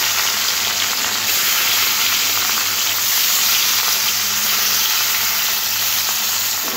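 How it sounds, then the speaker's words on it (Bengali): Fish rubbed with salt and turmeric fries in hot oil, giving a continuous, dense, even sizzle up close with no voices over it. "এবার এই তেলের মধ্যে মাছগুলো ভেজে নেব।"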